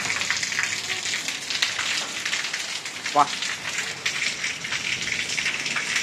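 Steady rain falls in a continuous hiss on nearby surfaces, with a person talking over it.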